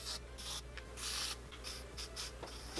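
Quiet repeated short hissing bursts of aerosol spray foundation, several puffs in irregular succession over a low background hum.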